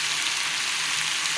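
Ridge gourd and garlic curry simmers and is stirred in a pan, giving a steady, even sizzle and hiss that runs without a break and with no voices.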